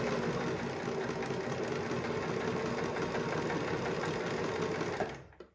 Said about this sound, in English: I'm not pushing the fabric, I'm not forcing it, I'm letting the machine do the work